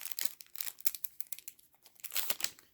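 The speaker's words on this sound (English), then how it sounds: "Let's take this, let's unwrap this" Packaging for an Amazon Fire Stick being unwrapped up close, with bursts of crinkling and tearing plastic and paper that come in quick irregular clusters, with no talking.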